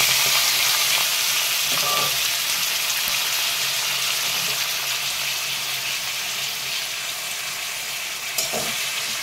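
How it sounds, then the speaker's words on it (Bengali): Cut elephant foot yam stems hit hot oil already crackling with black mustard and nigella seeds, producing a loud, dense, continuous sizzle close up, with a couple of faint knocks and no talking. "এবার আমি কেটে রাখা ওলনাটাগুলো তেলেতে দিয়ে দিচ্ছি।"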